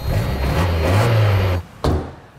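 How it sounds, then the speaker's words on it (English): A Mazda Miata fitted with a Speeduino ECU cranks and fires up, a loud low engine rumble idling roughly for over a second before cutting off abruptly, followed by a sharp clunk like a door. "I can't believe that started up the second I breathed on the key."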